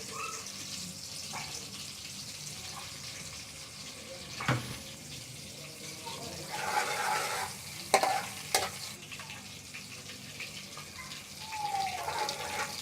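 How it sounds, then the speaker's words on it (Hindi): Garlic fries in oil over medium heat for a chicken veg spaghetti, a soft, steady sizzle with occasional stirring clatters and scrapes, up close and without talk. "लहसुन डाल के थोड़ा इसे हम फ्राई कर लेंगे।"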